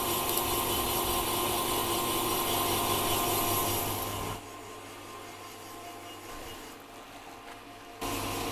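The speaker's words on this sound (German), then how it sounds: "während das Bohrwerk hinter mir am Bohren ist" A boring mill drills an Audi RS3 engine part with a steady grinding, whirring machine noise that suddenly drops to a quieter, duller hum partway through, then rises again.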